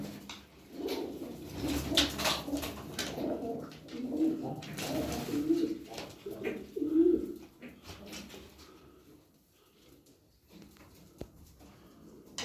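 Several pigeons coo in soft, throaty murmurs, fairly close, overlapping in a steady stream before thinning out into quieter background.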